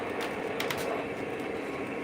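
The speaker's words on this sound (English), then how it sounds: "running trains around through the layout's cool" A model train layout with Conrail trains running, giving a steady rolling rumble and hum with a few brief clicks. No voices are heard.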